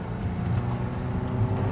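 The 350 horsepower V8 of a 2000 Lotus Esprit runs as a deep, steady engine rumble heard up close for a brief moment, with no voices over it.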